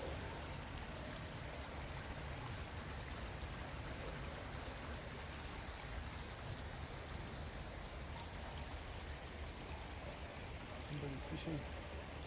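Soft, steady rushing of the Salgir River in Simferopol continues evenly throughout, faint and distant, with no clear voices.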